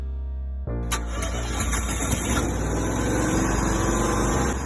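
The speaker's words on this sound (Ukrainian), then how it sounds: "Через 1-2 секунди двигун запрацює" A KOTO KT 23000LE-T petrol generator cranks briefly, then its engine catches and settles into a loud, steady idling hum close by.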